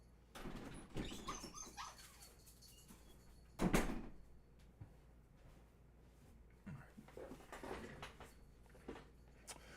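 A room door swings open with a single sharp knock and rattle near the middle, surrounded by quieter shuffles, light thumps and a dog moving about nearby.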